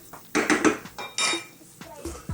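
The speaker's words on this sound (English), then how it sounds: "Lid's going to go on." A few clinks and clatters of a metal lid being set onto a pot of meat sauce simmering on a lowered heat, several short knocks close by with no talking.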